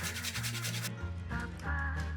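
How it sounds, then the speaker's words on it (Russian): A frozen cream-flavoured processed cheese is grated on a fine kitchen grater, making quick, faint, rasping scraping strokes close by with no speech. "На мелкой терке натираем 1 плавленый сырок со сливочным вкусом"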